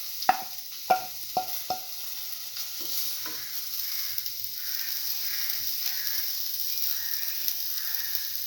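Grated coconut sauteed in a pan: a few sharp scraping knocks of a spoon at the start, then a soft steady sizzle with light stirring scrapes, close by and with no talk.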